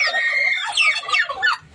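Chickens cluck in a farmyard with a chick near its parents, a close run of bright, rising squawks and clucks over about two seconds, with no voices.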